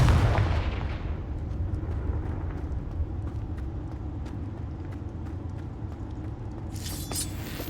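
Confringo and Incendio spell blasts in Hogwarts Legacy on PS5, a loud booming burst up front followed by a sustained low rumbling roar that fades and swells, with a sharp crackle near the end.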